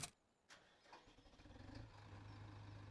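A Massey Ferguson tractor engine in Farming Simulator 17 starts with a couple of cranking bursts, then settles into a steady low rumbling idle, fairly quiet and alone.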